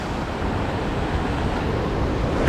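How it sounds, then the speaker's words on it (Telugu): Fast-flowing water rushing through fully opened dam gates, a dense, steady roar of churning water that stays loud and unbroken throughout, with no voices. "వామ్మో నీళ్ళు ఇది చాలా స్పీడ్ వస్తున్నాయి ఇంకా ఫుల్ లేపిను గేట్లు"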